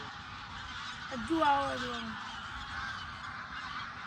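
Geese honking at the Thol bird sanctuary, a short burst of calls rising in the middle over steady outdoor ambience, with a person talking nearby.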